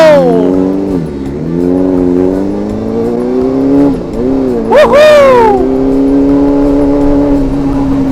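A motorcycle is ridden and revved close by, its engine pitch swooping up and down with a sharp, loud rev partway through, while a rider whoops once over it.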